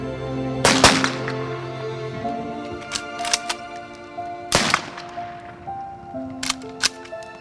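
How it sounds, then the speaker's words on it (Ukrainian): Several sharp volleys from an honor guard's automatic rifles crack out in spaced bursts at a military funeral in Kryvyi Rih, loud and echoing, with a sustained low tone ringing underneath between the shots. "Труну з тілом воїна опустили до могили під залпи військового салюту з автоматів почесної варти"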